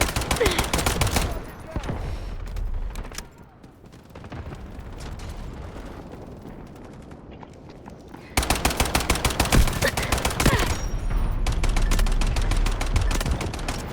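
Gunfire in the video game Delta Force: rapid bursts of automatic shots crackle loudly, drop into a quieter stretch with distant rumble, then resume as sustained, dense firing.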